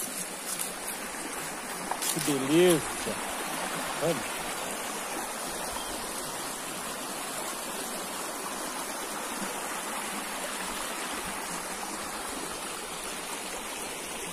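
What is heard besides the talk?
small creek stream flowing in Minas Gerais countryside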